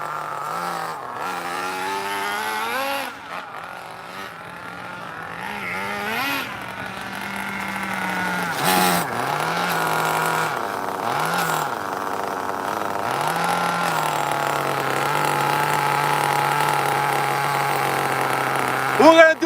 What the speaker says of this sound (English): But you can't kill that Tamiya engine though